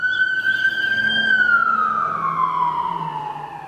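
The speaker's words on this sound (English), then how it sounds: "Oh, there's a siren." Emergency vehicle siren passing by, a single loud wailing tone that holds steady and then slides lower as it moves away, over faint traffic rumble.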